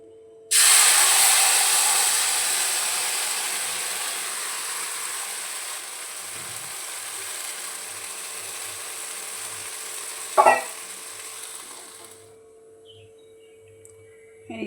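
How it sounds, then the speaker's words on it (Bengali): Hilsa fish poured into a hot wok sets off a loud, sudden sizzling hiss that fades slowly over about eleven seconds, with a brief clatter near the end before it cuts off. "এবার কড়াইয়ের ভিতরে আমি মাছটা ঢেলে দেবো।"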